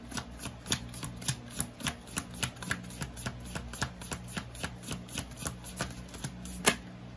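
Tarot cards shuffled by hand in a steady run of crisp riffling clicks, evenly paced and close, with one sharper snap near the end and no talk.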